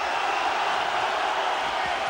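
A boxing crowd roars at a fight, a dense, loud, continuous swell of cheering throughout.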